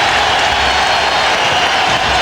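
Basketball arena crowd applauding and roaring during a 1999 playoff game one between the Phoenix Suns and Portland Trail Blazers, a dense, loud, steady wash of claps and cheers filling the whole stretch.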